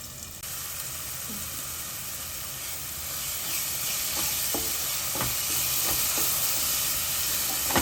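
Onion paste fries for a curry in a pan, giving a continuous close sizzle that grows slightly louder. Scattered scraping taps from stirring run through it and no one speaks.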